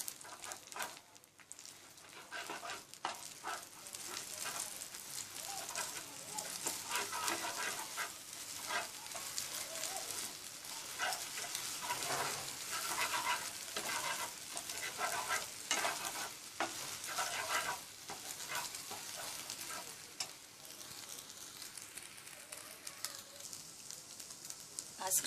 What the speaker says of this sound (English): We are going to scramble the eggs.